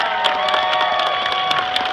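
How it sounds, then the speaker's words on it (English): A crowd at a Greek festival claps and cheers as young children's dancers make their way out, a dense, continuous wash of applause with scattered sharper claps and crowd noise throughout. "How about a nice round of applause for them as they make their way out?"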